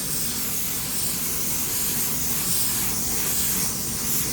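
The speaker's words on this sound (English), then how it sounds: "We're gonna use it here for sealer." Continuous loud hiss from a paint spray gun applying sealer at 20 PSI, steady and unbroken throughout with no talking.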